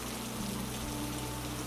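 Steady rain falls without a break, a faint, even hiss of drops on surfaces, quiet and continuous with no voices.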